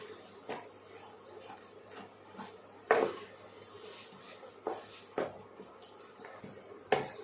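A spoon scrapes and knocks against a pot while roasted flour mixture for paal kozhukattai is stirred smooth, with faint soft clinks at irregular intervals over a quiet kitchen hum.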